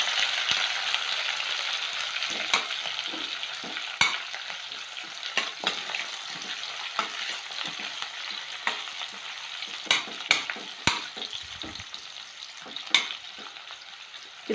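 Onion and green chilli fry in a pan with a steady close sizzle, punctuated by repeated scraping and tapping of a spatula against the pan.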